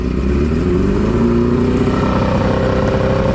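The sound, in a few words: boat engine revving up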